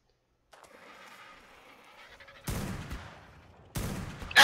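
Gunfire in the Ark Survival video game: two sharp bursts of shots ring out over quieter game sounds, then a final loud crack at the very end.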